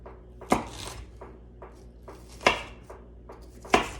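A knife chops sliced ingredients for homemade marinara on a board with three sharp, close thuds at an unhurried pace and softer cutting and scraping sounds between them, with no voices.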